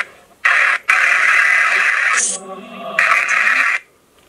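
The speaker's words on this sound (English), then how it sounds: "Let's try a white noise." Broadband white noise from a ghost-hunting spirit box app comes in loud, steady hissing bursts, broken by short gaps and a brief dip before a final burst that cuts off.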